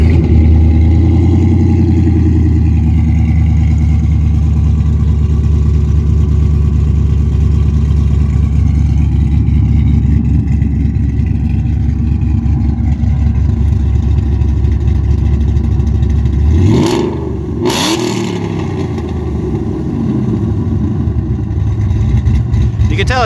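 A Shelby GT500 with a 5.8 V8 and L&M cams starts and idles loudly on a cold 15-degree day in Indiana, with a lumpy, choppy throb up close. A sharp rev swells around 17 seconds and then settles back to idle.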